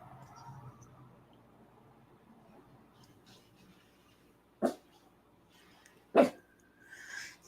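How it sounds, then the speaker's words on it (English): A small dog lets out two sharp, separate barks a moment apart against a quiet room, and a faint voice is heard at the start. "The little dog."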